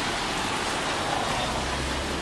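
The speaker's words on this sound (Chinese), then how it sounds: "但是呢，下雨天" Steady rain falls in Nara, a dense, even hiss of drops on surfaces that continues unbroken for a couple of seconds with no voices.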